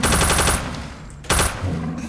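Rapid automatic gunfire from Left 4 Dead during a zombie attack: two loud, dense bursts of shots separated by a brief pause, with no talk over them.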